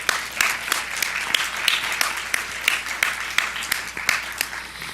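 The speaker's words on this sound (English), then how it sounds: "please give Rotary a round of applause for that" An audience applauds for the Rotary Club at a high school changemaker challenge event, steady dense clapping from many hands filling the room without pause.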